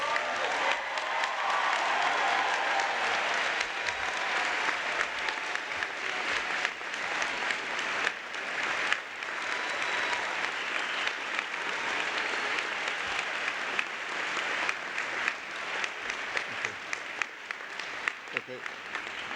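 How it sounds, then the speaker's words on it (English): Sustained applause from a commencement audience honoring the DMD dental medicine class of 2019, a dense, steady wash of clapping lasting the whole stretch, with faint crowd murmur mixed in. "Round of applause for the DMD class of 2019."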